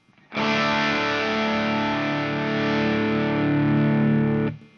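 A crunchy electric guitar chord through a Nobels ODR-1 overdrive pedal rings out loudly and sustains for several seconds before being cut off abruptly.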